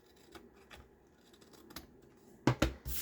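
Scissors cutting a paper folio in a few crisp snips, faint and spaced at first, then a louder cluster of close cuts near the end.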